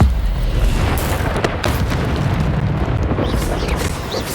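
Dense, sustained blasts and rumbling fire bursts from Incendio spells cast during combat in Hogwarts Legacy, loud and continuous with sharp crackling hits layered throughout, no talking.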